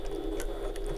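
A sewing machine runs briefly while stitching back over a seam on fabric, a fast steady mechanical whir heard close and alone for about a second.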